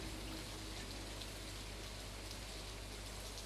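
Steady rain falls in the Stardew Valley farming game, a soft constant hiss of drops with no other sounds and no change over the few seconds.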